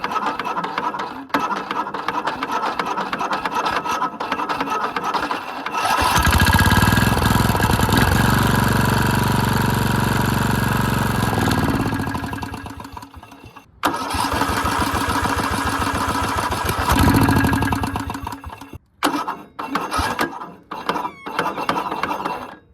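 A Murray lawn mower's small engine is pulled over with rattling cranks, catches and roars for several seconds, drops away, then fires again and runs unevenly with sputters before faltering near the end.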